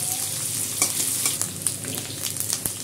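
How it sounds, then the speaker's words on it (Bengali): Potatoes sizzle lightly in a pan of oil, a constant crackling hiss punctuated by sharp pops and stirring scrapes, close and unaccompanied. "এবার আলুগুলোকে হালকা করে ভেজে নেব।"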